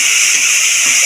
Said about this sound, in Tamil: இது எல்லாத்தையும் சேர்த்து நம்ம வதக்கி விட்டுடலாம்.